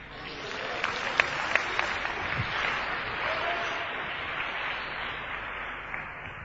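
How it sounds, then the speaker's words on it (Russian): A church congregation at a sermon applauds, a moderate, fairly quiet spread of clapping with a few sharper claps early on, continuing evenly without talk. "Дайте Богу аплодисмент"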